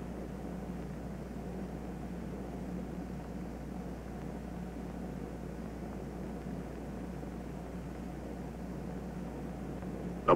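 Propeller planes, the weather and instrument aircraft of the 1949 Operation Crossroads atomic test, drone steadily overhead as they fly across the target area. The low, even engine rumble holds without a break for the whole stretch.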